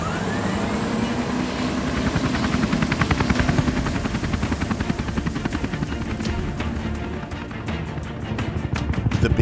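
The Lifesaver 23 rescue aircraft, a helicopter, taxis for departure, its close rotor chop and engine whine pulsing loudly and steadily throughout.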